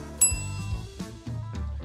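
A bright bell sound effect rings once on a live stream, sharp and close, then fades under ongoing background music with a couple of softer ding-like accents.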